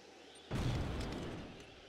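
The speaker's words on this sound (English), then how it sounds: "But it offers a big explosion, like, just wait and see." A big weapon blast in Resistance 3 erupts suddenly after a quiet moment, a loud, broad boom that holds and slowly rumbles away over more than a second.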